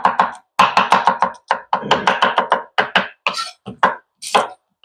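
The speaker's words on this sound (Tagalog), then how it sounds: "hiwain natin sibuyas" Onion sliced with a knife on a board, a close run of quick, sharp chopping taps in uneven bursts separated by short pauses, with no voices.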